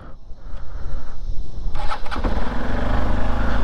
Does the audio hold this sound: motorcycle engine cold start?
yes